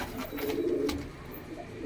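A pair of crested Sakdum pigeons coo softly and steadily, a low murmuring tone close by over a faint background hum.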